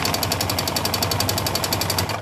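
A sewing machine runs steadily while stitching blue ribbon onto tassels, a rapid, even mechanical chatter of the needle at constant speed, loud and close with no talking.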